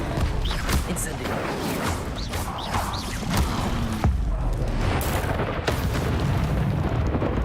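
A fiery spell blast from a Hogwarts wizarding video game erupts with booming whooshes and crackling bursts, repeated amid constant loud magical effects while a voice speaks over them.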